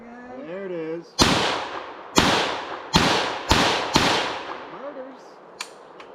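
An FN PS90 bullpup rifle fires five sharp, loud shots at uneven intervals, each with a ringing outdoor echo, until the magazine runs dry; someone speaks before and after the shots.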